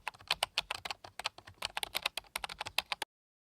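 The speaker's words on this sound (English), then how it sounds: "simply type your prompt in the prompt box" Fingers type a prompt on a computer keyboard, a rapid close-up run of crisp key clicks with uneven rhythm that stops abruptly after about three seconds.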